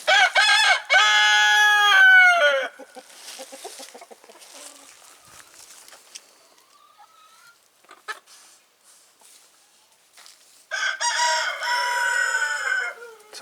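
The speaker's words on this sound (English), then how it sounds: "Some big roosters." Several big roosters crow loudly close by, two long bursts with a quieter stretch of clucking and faint calls in between.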